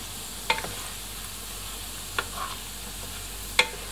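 Pork belly fries in oil with fish sauce over medium heat, giving a steady, even sizzle with a few sharp crackling pops scattered through it.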